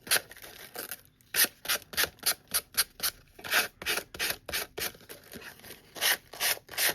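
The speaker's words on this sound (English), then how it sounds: "Grab a sanding block. I find is the easiest way to remove, because you literally just sand the edges and it comes right off." Sanding block rubbed back and forth along the edges of Tim Holtz craft tissue, a close, steady run of about fifteen rhythmic scraping strokes with brief gaps between them, heard alone.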